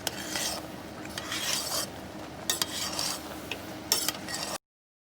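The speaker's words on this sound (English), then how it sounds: "Give it a little nice stir." A spoon stirs masala in a pot outdoors, scraping and clinking against the metal in repeated close strokes with a faint sizzle underneath, then the sound stops abruptly.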